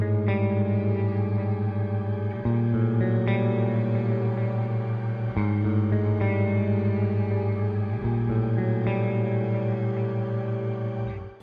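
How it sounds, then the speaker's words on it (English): Clean tone from a 2020 Schecter Blackjack seven-string electric guitar, sustained chords ringing with light echo and chorus shimmer, changing every few seconds and fading out at the end. "Alright, so next up we're going to move on to the clean guitar tone."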